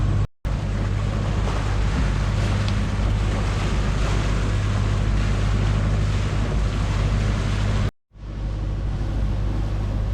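A sailing boat motors at about 5 knots on glassy, windless water off Gammon Head near Falmouth, giving a steady low engine drone with water and wind rush, broken by two brief dropouts.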